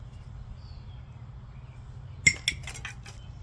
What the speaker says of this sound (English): Let's dump out all the gears and stuff.